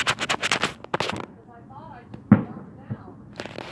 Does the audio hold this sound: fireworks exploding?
yes